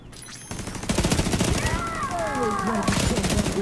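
A deployable turret machine gun rattles in The Division 2, its rapid automatic fire kicking in after a brief quiet start and running loud and steady to the end, with faint talk beneath.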